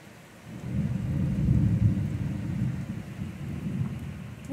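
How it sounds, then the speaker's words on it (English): Heavy rain roars steadily with deep, rolling thunder rumbling underneath, building and swelling in waves throughout, fairly loud and close. "It just got super dark, and it is hammering the rain."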